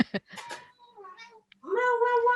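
A wet cat meows several times close up, with short cries followed by a longer drawn-out meow at the end, alone without talk.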